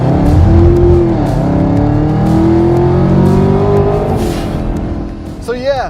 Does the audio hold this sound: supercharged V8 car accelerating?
yes